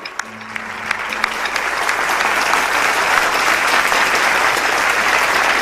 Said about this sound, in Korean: 특별히 참 어머님께 감사의 박수를 부탁드리겠습니다